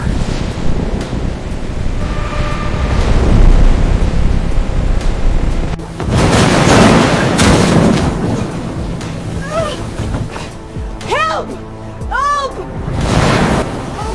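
Ocean waves and wind surge in the middle of the Atlantic Ocean, a loud, steady broadband roar; later, rising and falling tonal sounds join in above the water.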